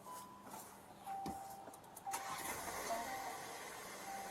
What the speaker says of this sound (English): she went and turned the car on